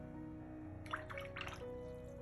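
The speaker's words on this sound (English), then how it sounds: "Then I'm going to rinse my brushes." Watercolor paintbrushes are swished and rinsed in a water jar, giving a few soft splashy sloshes close by over a steady low background hum.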